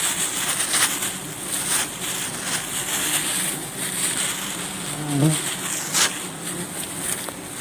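Giant honeybees swarming during a wild hive harvest: a dense, continuous buzzing drone of many bees close around, steady throughout, with a brief lower hum passing midway.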